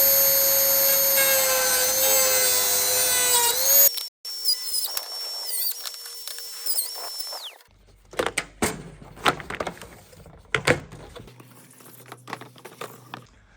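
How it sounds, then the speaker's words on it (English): Dremel rotary tool cutting the ends of a PVC hydroponic rail, a loud steady high whine close by that shifts pitch and cuts off, then followed by scraping and tapping sounds. "So I'll finish off those ends with the Dremel."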